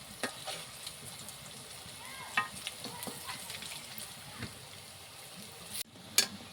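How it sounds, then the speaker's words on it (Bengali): Palm fritters (tal bora) sizzling in hot frying oil, a steady low crackle with occasional louder pops and spits, close and fairly quiet, with no talk over it. "সবকটা এভাবে উল্টিয়ে ভালো করে লাল করে ভেজে নেব"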